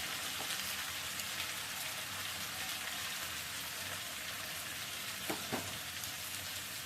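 Fish curry sautéing in a pan gives a steady, close sizzle and crackle throughout, with a couple of brief scraping stirs near the end and no talking.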